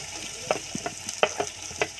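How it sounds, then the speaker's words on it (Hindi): Onions with green chillies frying in a pan for potato patty filling, a close steady sizzle punctuated by several distinct taps and scrapes of a spoon stirring them. "प्याज को हम सॉफ्ट होने तक पका लेंगे 3-4 मिनट के लिए।"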